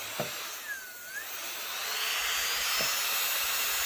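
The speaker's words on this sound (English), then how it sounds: "you have the micromotor, and this micromotor seems similar to the Ford 1070 and follows the same." Katway R-Graver jewelry engraving micromotor running, a steady high-pitched whine that ramps up in speed partway through, close and continuous, with a couple of faint clicks and no speech.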